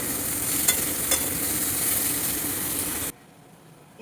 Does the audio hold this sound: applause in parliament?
no